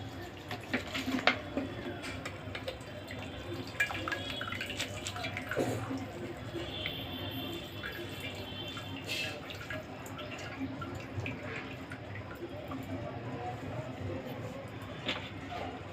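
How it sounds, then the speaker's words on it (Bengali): Cold water poured over cooked Maggi noodles in a kitchen, a faint trickling and dripping of water that continues under quiet talk. "নামানোর পর আমি এর মধ্যে ঠান্ডা জল দিয়ে দেবো, যাতে এটা একসাথে গায়ে লেগে না যায়।"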